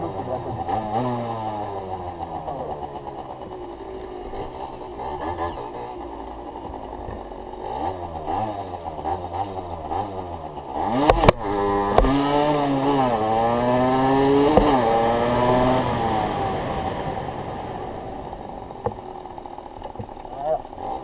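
A motorcycle engine revs and drops repeatedly under hard braking meant to heat the tyre, loud and close with rising and falling pitch, a sharp knock near the middle, and a voice talking at times.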